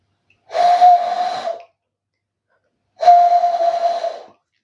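Two long, breathy hooting whistles a couple of seconds apart, made by a person blowing through cupped hands to imitate an owl call.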